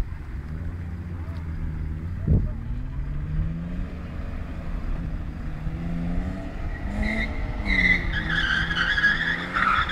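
A car skids with the handbrake pulled, its engine droning steadily and a sharp tire squeal rising near the start, then louder high-pitched squealing toward the end, with voices under the noise.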